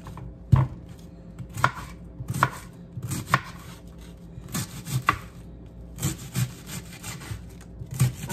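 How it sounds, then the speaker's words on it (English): Knife chopping through a head of cabbage on a wooden cutting board, a series of crisp, close cuts in uneven rhythm with short pauses between strokes, no voices. "Now I'm about to cut my cabbage."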